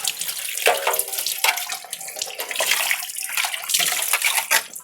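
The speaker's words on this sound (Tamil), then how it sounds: "இப்போ நான் எல்லாத்தையுமே வாஷ் பண்ணிவிட்டு காமிக்கிறேன்" Running tap water splashes steadily over brass pooja vessels being washed at home, with continuous close splashing and fluctuating flow but no speech.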